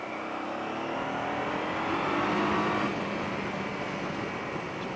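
Citroën C4 car moving in French traffic, heard as a continuous engine and road drone with a gentle rise in pitch as it accelerates, fairly close and steady, with no one speaking.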